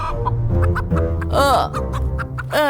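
A live chicken clucks close by, repeated throaty clucks with a couple of louder, rising squawks.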